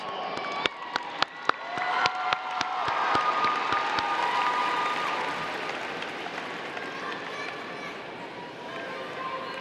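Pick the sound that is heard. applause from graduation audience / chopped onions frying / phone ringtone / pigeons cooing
applause from graduation audience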